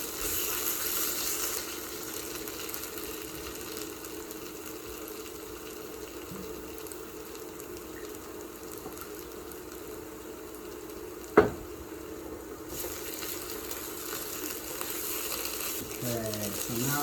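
Food sizzling in a frying pan with onions, garlic, rosemary and tomato paste, a steady low hiss and crackle with occasional stirring scrapes and one sharp clink, a faint voice in the background.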